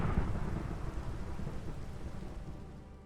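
Minecraft thunderstorm with rain: a deep, rolling thunder rumble over a steady wash of falling rain, loud at first and slowly fading away.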